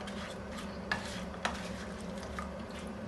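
Potatoes in tomato sauce are gently stirred in a pan, a soft, quiet scraping with a couple of faint utensil clicks against the metal.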